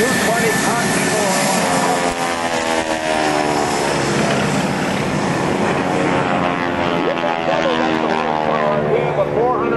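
Stearman biplane with a 220 Continental engine flying at an airshow, a loud steady propeller drone that shifts in pitch as it passes, with a voice talking over it.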